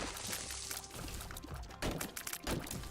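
Water splashes in the Binding of Isaac Antibirth video game as ghosts hurl buckets, giving a dense, sloshing pour with several bursts of splatter close up over three seconds.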